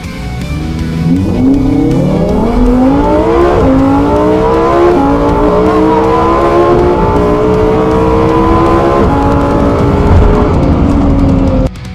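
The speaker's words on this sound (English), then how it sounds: "We are racing an Audi R8, which is basically the same car as the Lamborghini Huracan, so it should be a very close race." An Audi R8 drag racing against a Lamborghini Huracan at an airport strip, loud continuous engine roar rising through repeated upshifts, revving climbing and dropping across gears for the full run, no talk.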